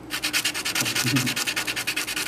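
A stick of charcoal rubbed back and forth on sandpaper makes quick, even scratchy strokes, about seven per second, close and fairly soft, with no talking.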